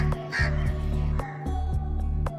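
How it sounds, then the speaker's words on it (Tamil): Several crows caw close by in harsh, rapid calls, repeated loudly again and again over a steady background hum. "நான் வச்சுட்டு வரவும் நிறைய காக்கா வந்துருச்சு"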